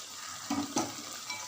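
Chicken sautés with tomato paste, Kashmiri chili powder and hot chili powder, a quiet sizzle with two short stirring scrapes, heard alone and fairly faint.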